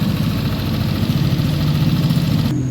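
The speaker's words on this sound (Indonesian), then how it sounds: "dan ini motor menyala." A Yamaha NMAX scooter under repair for an Error 37 fault idles close by with a steady, loud, low engine hum and a throbbing pulse, which cuts off abruptly near the end.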